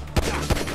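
Two sharp, loud gunshots crack in quick succession in Grand Theft Auto 5, close and punchy, each with a brief ringing tail.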